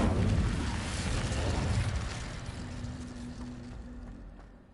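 A fiery Incendio spell bursts out in Hogwarts Legacy, a loud whooshing, rumbling blast of flame that fills the moment before a low sustained hum lingers and slowly fades.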